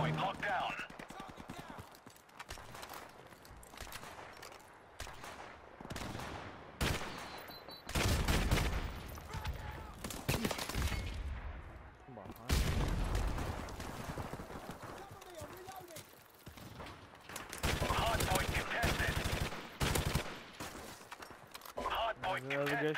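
Gunfire in Call of Duty Remastered, Hardpoint mode: repeated bursts of shots ring out in clusters between quieter stretches, mixed with footsteps and in-game announcer callouts while a player talks throughout.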